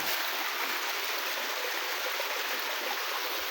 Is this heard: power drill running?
no